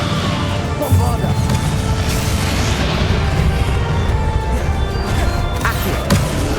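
Bombarda spell explosion in the video game Hogwarts Legacy, amid dense, chaotic combat noise with booming impacts and crashes; a voice shouts over the continuous loud clatter.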